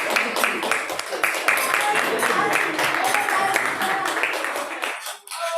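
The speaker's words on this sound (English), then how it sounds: "Let's give our players another round of applause." A congregation at a Friday night Shabbat service claps for the players in a broad, continuous round of applause that holds steady, then thins and stops near the end.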